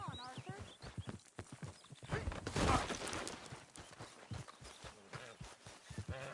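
Horse hooves clip-clop in Red Dead Redemption 2, a steady run of close hoofbeats with a brief whinny-like burst midway, while characters talk over them.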